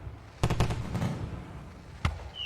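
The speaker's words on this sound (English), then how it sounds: "There's your fireworks." Fireworks sound effect played in a quiz setting: a few sharp broadband bangs with brief crackle, two close together early, then another later, moderately loud over a noisy background with no talk.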